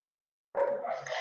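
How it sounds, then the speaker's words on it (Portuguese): A pet dog at home gives a single short bark that breaks a brief silence, close and moderately loud, tailing into a whine-like yelp. "eles vão começar a latir"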